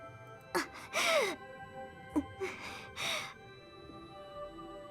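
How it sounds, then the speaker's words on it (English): Pained breathing and gasps from a video game character: a few short strained breaths and one sharp gasp, spaced out and fairly close, over a quiet background hum. "That breathing sounds like someone's in pain."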